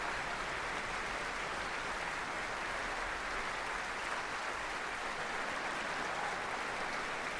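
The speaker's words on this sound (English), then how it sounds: "to accept yet more applause." Sustained applause from a concert hall audience after an orchestral performance as a violinist returns to the stage, a steady dense wash of clapping throughout with no talking.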